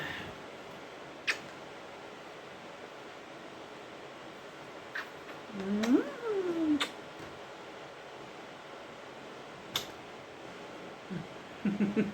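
A single cat meow rising and falling around the middle, close by, in an otherwise quiet room with a few faint ticks and a brief sound near the end.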